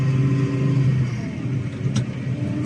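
A tractor engine running steadily during silage work, a loud, continuous mid-range drone that holds close throughout with no talk over it.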